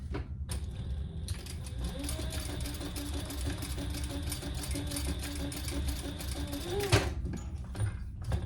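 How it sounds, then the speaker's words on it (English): A sewing machine top stitches a crossbody bag, running as a steady mechanical whir with a rapid needle rhythm for several seconds before stopping, under occasional soft voice. "I am going to turn it over and just top stitch"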